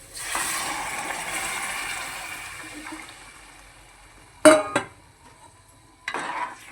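Boiled potatoes and black peas stirred in a metal cooking pan, with a soft sizzle fading out, then two sharp clanks of a spoon against the pan and a later burst of scraping.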